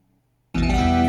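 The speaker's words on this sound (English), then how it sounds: "Well, we added an organ." A song mix with an organ added enters abruptly after half a second of near silence, then plays full and sustained with layered voices and held chords.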